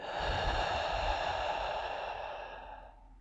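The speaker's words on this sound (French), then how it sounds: "on inspire jusque tout en haut et on expire en vide" A long, deep breath pushed out during a slow yin yoga session, close and airy, swelling at first and then fading away over about three seconds, with nothing else heard.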